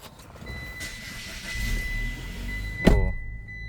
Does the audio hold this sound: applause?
no